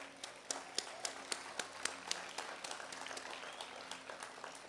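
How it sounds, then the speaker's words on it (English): At the City of University Park centennial celebration, the audience applauds the city staff with distinct, rhythmic claps that sound fairly distant and faint, holding a steady pace for several seconds. "I want to give them a round of applause."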